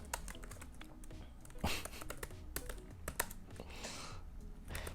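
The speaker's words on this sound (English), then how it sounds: "I was enjoying this whole typing The Great Gatsby thing" Steady typing on a computer keyboard, close up and fairly quiet, with rapid uneven key clicks and occasional louder strokes like the space or return key throughout.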